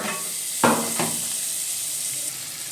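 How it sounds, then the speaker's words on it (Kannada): Chopped onions for chicken sukka frying in a hot pan, a steady close sizzle with two sharp stirring scrapes near the start, no voices. "ಇದನ್ನು ಸ್ವಲ್ಪ ಹುರ್ಕೋಬೇಕು, ನೀಟಾಗಿ ಫ್ರೈ ಆಗಬೇಕು"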